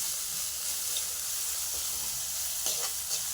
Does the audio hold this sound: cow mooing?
no